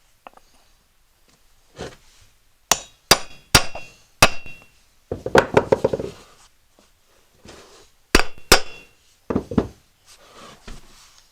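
Sharp hammer taps drive a front wheel bearing into a John Deere L110 riding mower wheel, landing as irregular clusters of close, loud metallic knocks separated by short pauses.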